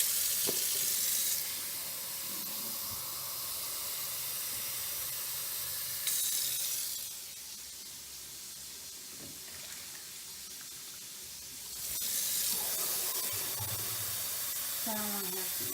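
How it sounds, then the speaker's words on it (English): Tap water runs steadily into a container, a soft continuous hiss that changes in tone as the flow shifts, fairly faint and without talk, while a waterproof iPhone X case is being tested. "So I'm gonna put some water in it."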